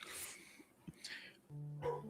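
A dog barks a few times in short yips, faint and somewhat distant in a quiet room, followed by a sustained tonal hum near the end.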